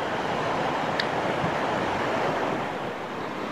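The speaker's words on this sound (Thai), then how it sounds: "ท่านอยู่ตรงนี้ท่านคงได้ยินเสียงคลื่นล่ะ" Sea waves washing onto the shore at Mae Ramphueng beach in Rayong, Thailand, on a windy day: a steady, loud roar of surf with gusting wind noise across the mic and no voices.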